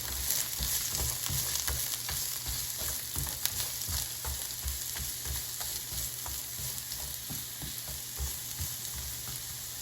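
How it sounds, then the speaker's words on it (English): Oil sizzling steadily in a hot pan as carrots are pan fried, a close, dense crackle with faint stirring scrapes and no talk. "the pan is heated, and you can hear the oil sizzling"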